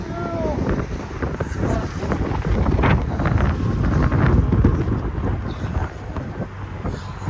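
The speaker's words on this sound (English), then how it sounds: "This is what happens if you come outside in the wind." Strong outdoor wind buffets the microphone in loud, uneven rumbling gusts that swell and fade over several seconds, with no clear talking.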